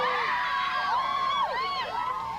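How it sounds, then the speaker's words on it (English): A large crowd of teenagers screaming for Depeche Mode outside the Beverly Center in Los Angeles in 1990, with overlapping high-pitched shrieks and whoops rising and falling, loud and continuous. "You could hear the screaming all over the Beverly Center area."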